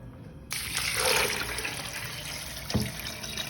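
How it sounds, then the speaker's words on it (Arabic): Water pours into a cooking pot on a home stove, a sudden steady rushing splash that starts abruptly and runs continuously at close range, with a brief clunk near the end. "راح اضيف المي"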